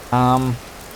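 Steady rain falling in the video game Vintage Story, a soft even hiss throughout, briefly overlaid near the start by a short, loud tonal sound.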